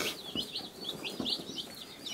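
Cornish Cross chicks moving about and pecking at food under a heat source, with a busy chorus of high, rapid peeping and chirping throughout.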